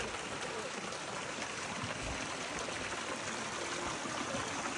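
Water flowing out from a tree root, a steady broadband rush that stays even and continuous throughout, heard up close with no clear voices.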